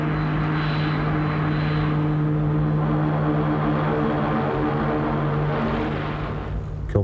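Propeller aircraft engines running, a loud steady droning hum with a strong low tone throughout, close and unbroken, with no talk.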